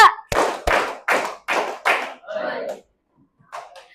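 A school class claps in unison in a call-and-response rhythm game, six loud, evenly spaced group claps followed by a looser, quieter burst, a pause, and a final short patter.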